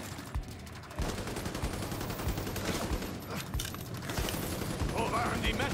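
Rapid gunfire from a mounted gun turret in The Division 2, with sharp repeated bursts and steady loud battle noise throughout, plus game speech mixed in.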